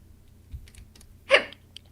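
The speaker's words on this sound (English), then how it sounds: "I have the hiccups." A single hiccup bursts out sharply near the end of a quiet stretch during a Halloween role-playing game stream, brief and close, with a faint soft thump before it and no talking.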